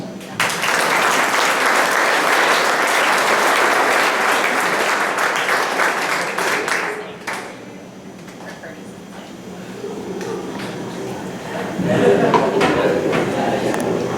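Sustained audience applause at a track and field awards ceremony, loud and dense, fading somewhat midway before a fresh swell of clapping and cheering near the end.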